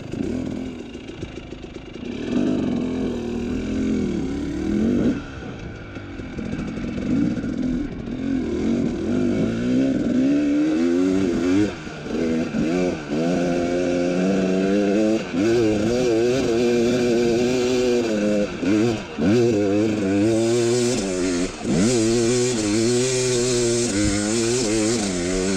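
A KTM TX300 dirt bike climbs desert hills, its two-stroke engine revving hard and loud up close with rising and falling pitch sweeps through repeated throttle blips.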